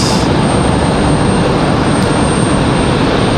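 Air France jet airliner taking off from Raleigh-Durham International, a loud, broad, constant engine roar filling the whole moment with no break.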